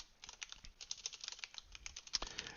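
Quiet, fast typing on a computer keyboard, a steady patter of light key clicks running for a couple of seconds with no talking.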